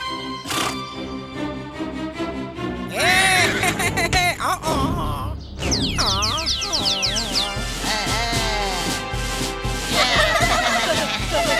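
Cartoon horse from Chhota Bheem neighs and whinnies repeatedly, loud and close, over a busy music score with warbling tones, with a few hoof-like clops mixed in.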